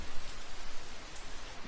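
Steady rainfall in the jungle stealth game Metal Gear Solid 3, a dense, even hiss of drops on surfaces that continues without a break and with no voices.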